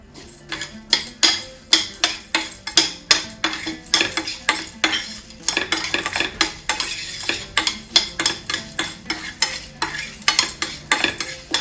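Cumin seeds frying in oil in a pan for a bitter gourd fry, loud rapid crackling and popping with repeated scraping stirs of a utensil against the pan, nearby and without voices.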